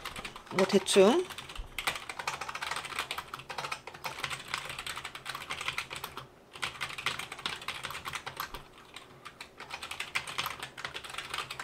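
Someone types quickly on a computer keyboard, producing dense, steady clicking that runs throughout with a brief pause, close and fairly quiet, with a short spoken phrase near the start.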